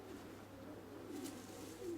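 A young pigeon, the offspring of a prized breeding pair, gives soft low coos against a steady background hum.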